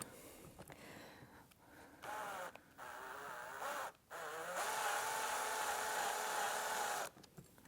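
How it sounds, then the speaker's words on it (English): A power drill runs in short bursts and then one longer whining spell as it drives a bolt into a nut while a Contrology Reformer carriage pad is being replaced, close up and moderately loud, with brief pauses between bursts. "Very light pressure with the drill here until I feel the bolt engage with the nut"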